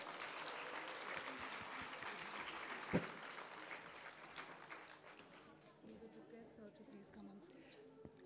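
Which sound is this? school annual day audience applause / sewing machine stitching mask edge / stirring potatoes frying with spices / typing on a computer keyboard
school annual day audience applause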